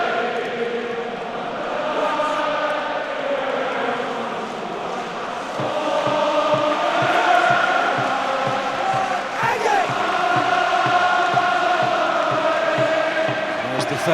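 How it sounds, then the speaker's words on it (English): A stadium crowd at the 2012 Ulster v Munster Heineken Cup rugby quarter-final sings and cheers in a loud, sustained roar, with chanting voices rising and swelling throughout. "Listen to the crowd now."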